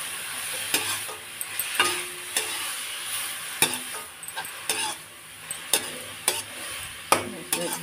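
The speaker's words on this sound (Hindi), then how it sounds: "घी डाल दूं इसको, मैं घी से अच्छे से भूंज लेती हूँ।" Grated carrots stir and roast in pure cow ghee for carrot halwa. The fat sizzles steadily while a spoon scrapes and knocks against the pan at irregular moments, close and fairly loud.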